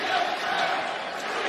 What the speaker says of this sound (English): Stadium went crazy.